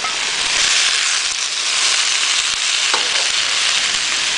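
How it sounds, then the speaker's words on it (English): Pork sizzles and stir-fries loudly in a hot wok with red and green peppers for sweet and sour pork, a steady, dense hiss with faint scraping throughout. "we can go ahead and return the pork to the wok"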